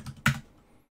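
A few keystrokes on a computer keyboard as a terminal command is typed, with one sharp, close clack standing out among softer taps, followed by quiet.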